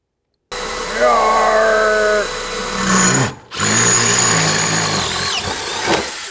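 A power drill bores holes into a 1955 Buick Special, with loud close whirring bursts that rise and fall in pitch under load, briefly stopping partway before whining again.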